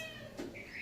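A single short cat meow, faint and rising, set against quiet room background in a household at morning time, with no voices over it.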